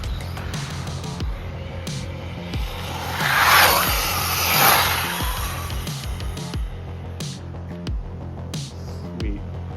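Whirring of a ZDRacing RX12 brushless RC car drifting, a fluctuating electric motor whine rising and falling with bursts of tire hiss as it slides, near and fairly loud with steady background noise.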